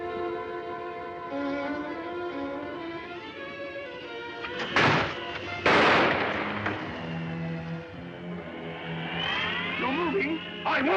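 Two sharp, loud gunshots crack out in a 1945 Sherlock Holmes mystery film, set against music and dialogue, with a burst of reverberant noise after each shot.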